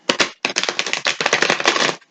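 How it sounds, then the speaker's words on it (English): A tarot card deck being shuffled close up, a dense riffling flutter in bursts with one brief pause, and no voices. "One more shuffle."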